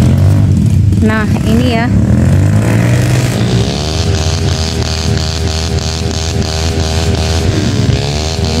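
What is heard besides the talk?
damaged motorcycle engine revving on rough terrain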